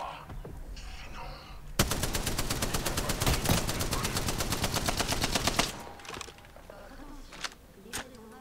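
Sustained rapid gunfire in the battle royale shooter Apex Legends: a loud, unbroken automatic stream of nearly four seconds, flanked by quieter ambient game noise and a few stray clicks.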